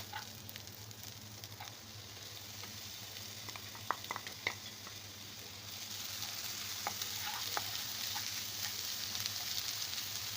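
Small diced peppers frying with wilted onions in a pan, giving a steady soft sizzle with scattered crackles and a few spoon stirs, close but fairly quiet, with no voices.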